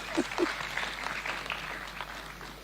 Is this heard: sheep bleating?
no